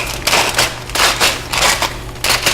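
Repeated crinkly crunching and snipping of scissors punching holes in a foil package, several bursts in quick succession, close and fairly loud.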